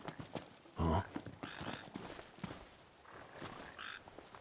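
A yellow frog in the video game Final Fantasy XV gives a single loud croak, with quieter in-game ambience and faint footsteps around it.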